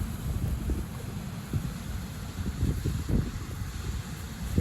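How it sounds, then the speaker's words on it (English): Low, steady rumbling wind buffets the microphone throughout on a seaside fishing trip at Brighton, UK, with gusty surges and no voices. "I'm trying to stay in the bivvy because it's bloody so windy you won't hear me"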